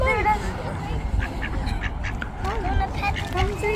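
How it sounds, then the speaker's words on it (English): A duck quacks in short nasal bursts, close by and repeated several times, mixed with voices of people talking nearby. "Should we go pet the duck?"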